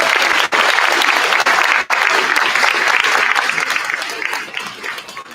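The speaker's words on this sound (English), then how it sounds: "Give them a round of applause." Loud, sustained applause from a crowd at a school concert as third-grade children enter, steady clapping that continues throughout and fades slightly toward the end.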